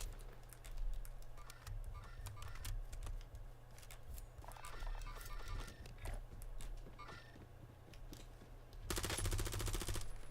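Call of Duty Warzone gunfire in a ranked match, with scattered shots through the middle and a loud, dense burst of rapid automatic fire near the end over a steady low background hum.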